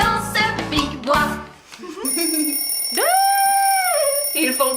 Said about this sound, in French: Il fonctionne ce réveil matin?